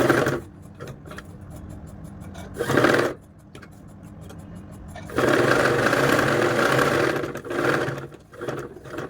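A sewing machine stitching around the rounded edge of a child's frock runs in bursts, its steady motor whir rising and pausing as the fabric is turned, with no voices over it.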